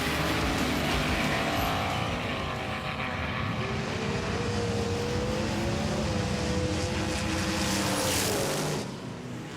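Small die-cast toy cars, one weighing 56 grams and one a Welly Volkswagen, racing down a track in a steady, loud rolling roar with a shifting whine, continuous for nearly ten seconds.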